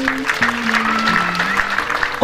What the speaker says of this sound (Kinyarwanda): Mukomere Imana amashyi muyishimire